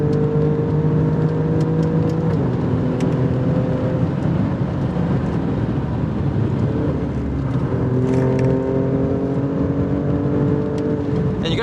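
A 2024 Alfa Romeo Stelvio Quadrifoglio SUV engine drones loudly and continuously on a race track, pitch rising and falling through gear shifts as it accelerates, heard from inside the vehicle.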